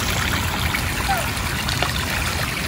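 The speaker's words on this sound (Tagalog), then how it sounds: "Talagang lumalabas po ang tubig dito papasok." Floodwater from a swollen river trickles and gurgles as it flows into a hut, a steady close watery wash with faint splashes, the whole sound quite quiet.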